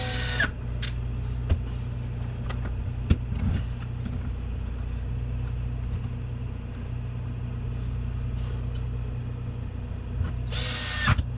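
Power tool driving a screw into the suspension of an Traxxas X-Maxx RC car, a steady close whirring hum with a couple of short bursts at the start and end, no talking.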